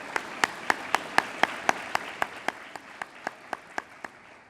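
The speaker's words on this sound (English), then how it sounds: "Yes, you can clap on that because you deserved it." Audience at an awards ceremony clapping in a slow, steady unison rhythm, about fifteen sharp, evenly spaced claps that fade slightly toward the end, with faint room noise underneath.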